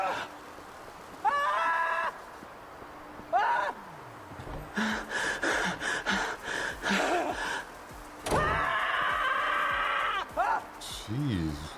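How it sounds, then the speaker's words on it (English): Screams of the character Murphy from Silent Hill Downpour, several short gasping, wavering vocal cries in bursts, mixed with a person talking over them. "Pretty good scream, actually."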